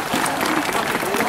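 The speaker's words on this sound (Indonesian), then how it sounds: "Berikan aplaus." A crowd at a fire-fighting training center claps in a dense, steady burst of applause, loud and close, with no pause throughout.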